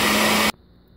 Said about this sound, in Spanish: Y nos ponemos a licuar.